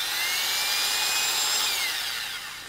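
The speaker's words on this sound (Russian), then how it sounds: "Пластик сверлится легко." A power drill bores through a plastic respirator part, giving a close, steady high-pitched whine that holds for about two seconds and then begins to taper off.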